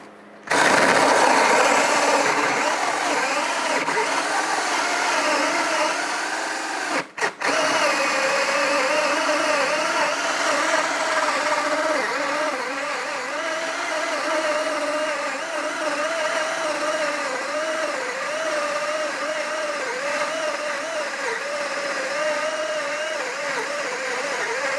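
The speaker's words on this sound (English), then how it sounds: "And finally, the 2-inch hole saw." A Ryobi ONE+ HP 18V brushless compact cordless drill drives a 2-inch hole saw through material, a steady loud whine and grinding roar held for nearly the whole span, with one brief stall midway before it resumes.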